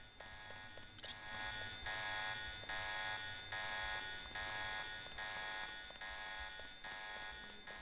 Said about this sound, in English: Oh shit. The alarm.